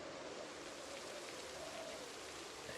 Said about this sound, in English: Not a huge fan of this rain.